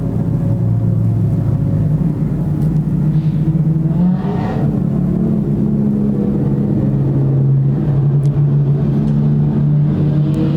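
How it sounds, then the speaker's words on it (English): Street stock race cars lapping a dirt oval at Timbertown in a sixteen-car feature, their engines making a continuous loud, droning roar that rises and falls as the pack circles, with no voices. "Ryan Penfold was our non-starter of our 16 street stocks that made the call for round number 2 here in Timbertown"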